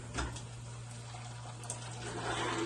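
Boiling water pouring into a pot of rice gruel, a continuous rushing splash under a steady low hum, close and even throughout the short stretch.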